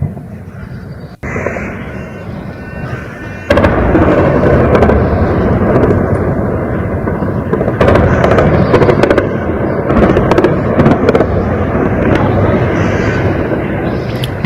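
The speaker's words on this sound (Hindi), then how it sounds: "रशियन और यूक्रेनी आर्मी के बीच चल रही गन फाइट की आवाजें" Gunfire between Russian and Ukrainian army units across the Minsky massiv district of Kyiv: loud, dense bursts of sharp cracks and booms that roll and echo over a continuous rumble, heard alone with no talk.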